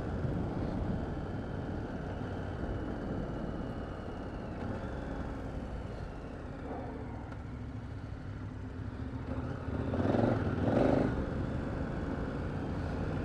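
A KTM 1290 Super Adventure R motorcycle rides off-road in Peru in its off-road mode, giving a steady, moderately loud engine drone mixed with wind rush that surges and grows louder toward the end.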